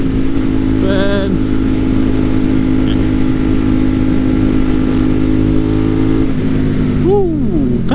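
A motorcycle cruises along a rural country road with a steady, loud engine drone and wind rush throughout, while a voice calls out briefly over it near the start and again at the end.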